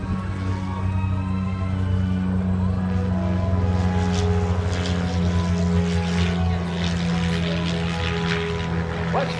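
A steady, loud droning engine of an aerobatic propeller plane taking off at the Westfield air show at Barnes Air National Guard Base, holding a constant hum with a faint rise in pitch throughout.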